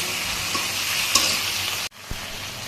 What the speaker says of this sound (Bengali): দিয়ে দিছি বাইগুন দিয়ে ওখানে আরেকটু সময় কষাই এলাম